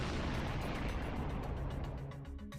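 A blast caught on drone footage of an armoured tank in combat against ISIS, heard as a loud, heavy rumbling roar that fills the clip and slowly decays.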